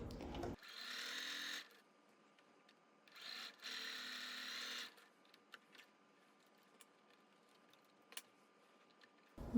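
A sewing machine stitching a quilt block for a table runner, running in two bursts of steady whirring, each lasting about a second or more, close and clear, separated by quiet pauses with small clicks and handling noises.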